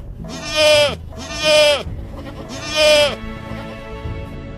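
Three loud, wavering bleats from newborn goat kids, each about half a second long, come in quick succession and stand out clearly against quiet background noise.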